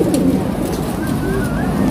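Racing pigeons coo at a training toss release site, with soft overlapping coos and wing flutters among a dense flock under a steady outdoor background hum.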